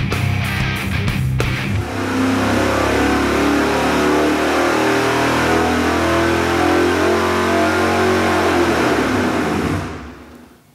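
Supercharged Small Block Chevy GM crate engine with a 671 blower and dual quads, run on a dyno, revving hard and loud up to a sustained high-rpm roar before cutting off at the end.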